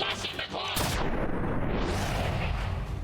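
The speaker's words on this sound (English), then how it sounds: "Here's hoping the explosion doesn't reach us then." An explosion in the video game XCOM 2: War of the Chosen hits with a loud, close blast that swells into a sustained, rumbling roar lasting several seconds.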